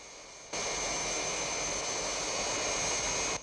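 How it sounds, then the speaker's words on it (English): A jet plane's engine roar cuts in abruptly and holds as a loud, steady rushing whine with a thin high-pitched tone on top. "There's a plane coming in now."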